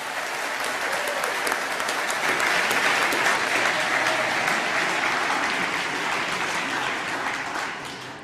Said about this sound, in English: I'd like you to give her an enormous round of applause